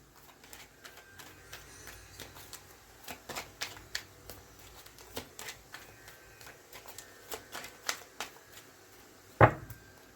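Tarot cards are shuffled by hand in short, soft riffling bursts of papery clicks, with quiet gaps between them and one sharper snap near the end.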